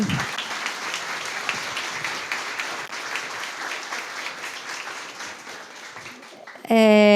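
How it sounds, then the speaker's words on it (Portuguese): Audience applause at a book festival panel, a sustained, even spread of clapping through the hall that fades slightly before an abrupt louder tone cuts in at the end. "Aplausos."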